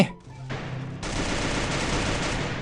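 Gunfire in Free Fire: after a couple of sharp shots, a sustained loud burst of rapid fire takes over and carries on without a break, with faint voices at the very start.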